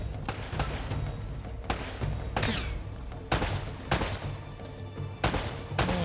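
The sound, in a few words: gunfire in the video game Uncharted: Drake's Fortune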